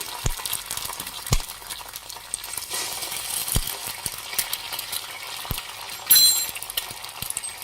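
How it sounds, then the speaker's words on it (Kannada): Eggs cracked into hot oil on a low flame, frying for hotel-style egg noodles; a steady crackling sizzle runs throughout, broken by a few sharp clicks and taps, with no voices. "ಎಣ್ಣೆ ಬಿಸಿಯಾಗಿದೆ. ಮೊಟ್ಟೆ ಹಾಕೊಳ್ಳೋಣ ಹೊಡೆದು ಫ್ರೆಂಡ್ಸ್"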